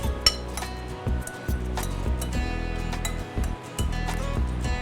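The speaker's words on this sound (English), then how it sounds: "Gonna transfer these to a bowl." Cooked shrimp tipped into a bowl, making a run of close, sharp clinks and light knocks of utensil against dish, spaced irregularly with brief pauses.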